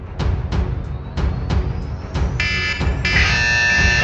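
Quiz buzz-in buzzers go off in the middle of a podcast quiz, with a run of sharp percussive knocks followed by two sustained electronic tones, the second one longer and louder.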